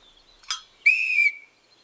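A shiny brass whistle blown at the start of a race, a short burst followed by one clear, bright blast lasting under half a second, close and alone against near silence.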